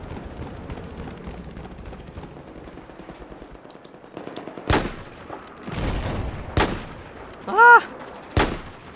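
Gunfire in Battlefield 4: a few sharp, loud shots and bursts ring out in the second half after a quieter stretch, with a brief shout from a player among them.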